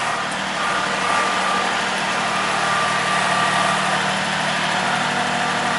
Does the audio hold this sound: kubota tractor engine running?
yes